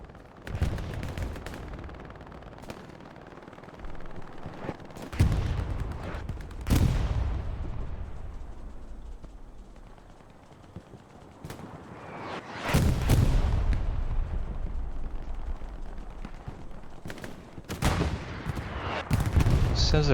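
Gunfire in the World War II shooter Hell Let Loose on the Utah map during a competitive match: repeated loud shots and rapid machine-gun bursts, some near and sharp, others more distant, over a constant battle rumble.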